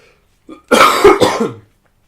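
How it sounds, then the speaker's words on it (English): A single close, loud cough, a brief throaty burst with a rough follow-through, preceded by a faint breath and then silence. "Can I cut you off just to cough?"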